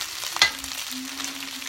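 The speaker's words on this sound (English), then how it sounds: "So I'm putting in my rice now. I'm making a small platter of rice, stir-fried rice." Stir-fried rice sizzles in a pan, a soft steady frying hiss with a brief clink of a utensil near the start.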